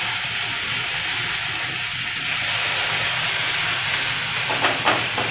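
Tomatoes, ginger garlic paste and curry leaves hit a hot pan for a simple Tamil onion-tomato-coconut kurma, giving a steady loud hiss and sizzle throughout with a few brief clatters near the end.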